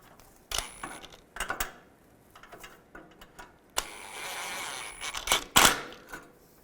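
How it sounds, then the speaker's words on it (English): A ratchet with a 14mm socket clicks and rattles in short bursts while tightening exhaust manifold nuts on a 2002-2009 Chevrolet Trailblazer, with metallic clanks and pauses between turns, close and fairly quiet. "now I'm going to take a 14mm socket and tighten these nuts down"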